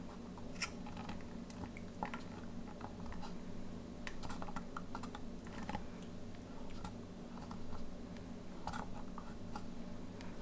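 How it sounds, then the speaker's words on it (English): A larger chisel trims the deck of a 1/200 plastic model ship, producing a series of small, irregular scraping clicks and taps close by over a constant low hum, with no talking. "larger chisel for trimming this deck back now"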